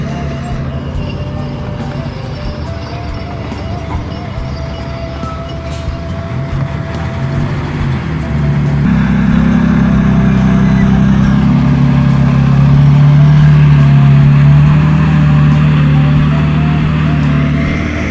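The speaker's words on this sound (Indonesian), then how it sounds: "terlihat ada satu bulldozer yang lagi memadatkan badan jalan untuk dilalui truk membawa tanah timbunan di STA 9" A bulldozer compacting a toll road bed while trucks haul fill soil at STA 9 of the Padang–Sicincin toll road in Tanjung Basung: steady, loud diesel engine drone that swells and holds a heavy rumble.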